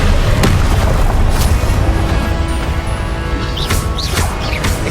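An Incendio fire spell blasts in Hogwarts Legacy as a loud, continuous roar of booming bursts and crackling impacts, with sharp hits punching through near the start and again toward the end, and no talking over it.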